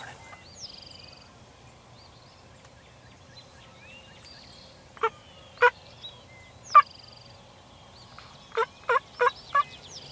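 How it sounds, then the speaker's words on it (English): Wild turkeys gobble on a bright, clear morning, distant at first, then a handful of louder rattling gobbles, ending in a quick series of four close together over a quiet outdoor background. "the birds are already gobbling this morning"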